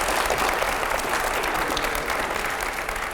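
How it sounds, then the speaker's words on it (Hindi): An audience at a televised Hindi music show breaks into dense, sustained applause, loud and even throughout with no pauses. "जोरदार तालियां होनी चाहिए दादा के ऊपर"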